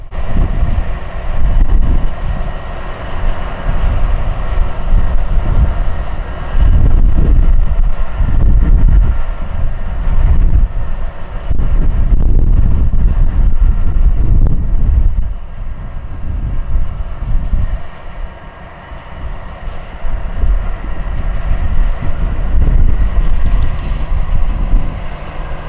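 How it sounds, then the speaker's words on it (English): A Union Pacific locomotive, number 1523, accelerates past on a South Side Chicago line, a steady low rumbling roar that swells and holds for the whole stretch, mixed with wind buffeting the microphone and no talking. "The SD70M stopped for a bit, and 1523 accelerated,"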